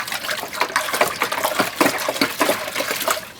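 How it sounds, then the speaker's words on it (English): Hot water in a homebrewing kettle stirred vigorously on a stout brew day, giving a continuous close swishing and sloshing with small splashes and a gurgling churn, no voices. "I like to stir it pretty vigorously so that it coats the walls a little higher up"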